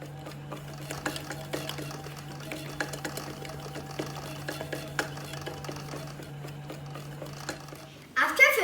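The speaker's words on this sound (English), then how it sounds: "let Mr. Bread Maker knead the dough for 15 minutes" A bread maker running its dough program on sweet potato bread dough, a steady low motor hum with rhythmic thumps and clatter as the paddle kneads, moderately close and continuous.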